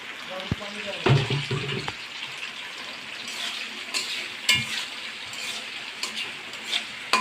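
Chopped onions with white cardamom fry in a pan for mutton curry; a brief clatter as they go in gives way to a soft, steady sizzle with occasional stirring scrapes.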